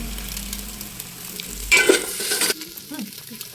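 Eggs fry in a pan for home-style egg chowmein, a continuous close sizzle that flares louder for under a second mid-way, then settles back to a softer crackle with faint stirring.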